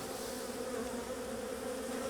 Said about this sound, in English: The bees are pinging me, but they're not stinging me.